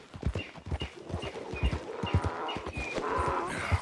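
Horse hooves clip-clop in a quick, even trot in Red Dead Redemption 2, the thudding steps close and rhythmic with a few faint jingling tack sounds over a soft outdoor background.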